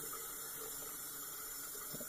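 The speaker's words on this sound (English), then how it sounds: "I'm gonna get a little water right in the palm of my hand like a lather bowl." Water runs from a tap into the cupped palm of a hand at a sink, making a faint, steady trickle with a small splash near the end.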